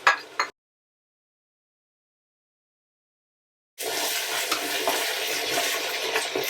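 Bell peppers and onions frying in a pan, a steady sizzle with the scrape of stirring, close and continuous, resuming loudly after a brief burst and a long silent gap.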